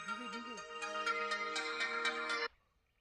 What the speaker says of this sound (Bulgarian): Жена доктора звъни.